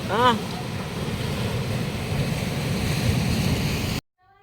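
Sea waves surge and splash onto the shore at Harihareshwar on the Konkan coast, a steady rushing wash with wind noise, with a voice briefly at the start before the sound cuts off abruptly.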